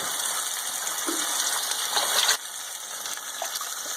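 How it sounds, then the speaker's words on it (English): Water poured into a pot of passata tomato sauce, a steady hissing stream that stops abruptly partway through, leaving quieter kitchen background. "And I'm putting in some water right now."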